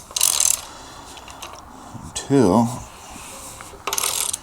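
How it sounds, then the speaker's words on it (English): A ratchet wrench clicks on the crankshaft bolt of an LS2 engine to rotate the crank, with short metallic ratcheting bursts at the start and end and a brief spoken word in between. "So we need to turn this back a little bit. Where's that bolt? This crankshaft bolt."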